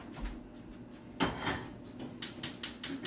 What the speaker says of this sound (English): So I'm going to take this pot and just bring it over to the stove and put that on low.